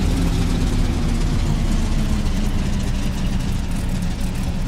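A loud, steady Corsair piston engine in the DCS flight simulator drones continuously with a heavy low rumble, running close by without pause.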